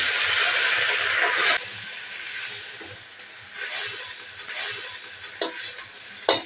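Potato leaves hit a hot oiled pan with a bright, steady sizzle that drops to a softer crackle. A few sharp clicks from stirring follow, and no one speaks.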